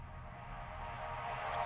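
A reversed atmospheric sample from the Vengeance FX 2 pack, pitched down, swells slowly as a steady washy texture that grows gradually louder toward the end, with no talk over it.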